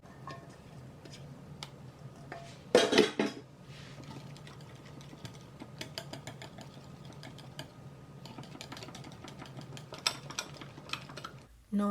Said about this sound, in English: I'm going to go ahead and whisk it in, or you can just use your spatula to fold it in.